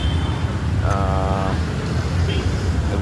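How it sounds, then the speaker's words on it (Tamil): A Jupiter scooter engine runs after its fuel pump has been bypassed. It makes a steady, close low rumble with a brief buzzing tone early on, and a voice is partly heard over it. "பாருங்கள் வண்டி பாருங்கள் ஸ்டார்ட் ஆகிட்டு"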